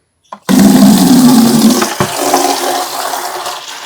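Water gushes loudly from a tap into a bucket, starting abruptly and pouring steadily, the tone shifting slightly as it fills.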